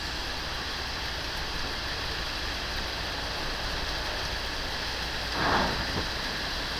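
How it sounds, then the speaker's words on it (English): Steady, dense heavy rain noise during a storm with hail fills the whole stretch, a constant hiss with a brief louder swell near the end. "It's pouring rain."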